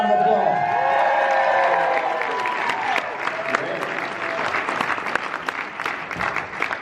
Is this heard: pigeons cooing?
no